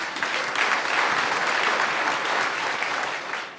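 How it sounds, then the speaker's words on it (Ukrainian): Audience applause opening a stand-up comedy show, a steady wash of many hands clapping at close range for a few seconds before easing slightly at the end. "Давайте почнемо з аплодисментів."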